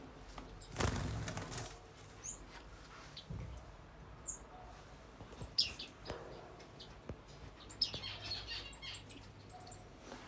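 Diamond firetails flutter off when released, a burst of wingbeats followed by scattered faint chirps and squeaky calls in a quiet setting.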